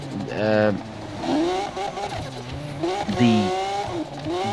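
Car crashing at high speed in the video game Need for Speed, played on an MSI GT83VR Titan laptop, with loud engine roars, revving sweeps and screeching tire squeals rising and falling in bursts.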